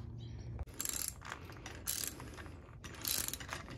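Lock nut being screwed onto the handle bolt of a Reese trailer jack, giving close, repeated ratcheting metallic clicks in short bursts with brief pauses between them.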